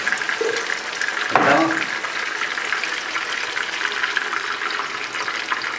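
Sofrito is added to a pan with fried chicken for arroz con pollo, giving a steady wet hiss and sizzle with a brief splashing burst as it goes in.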